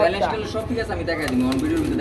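Pigeons coo softly in a low, throaty murmur that runs steadily throughout, with light fluttering and background voices mixed in.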